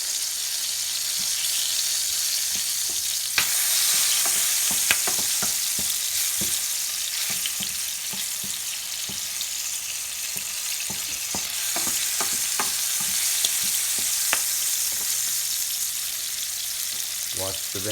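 Garlic sautés in a hot pan with a steady, dense sizzle that runs throughout, punctuated by frequent clicks and scrapes of stirring, with a brief faint trickle of water near the end.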